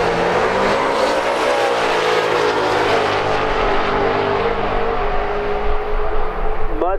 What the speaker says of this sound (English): Mustang sounded good going down through there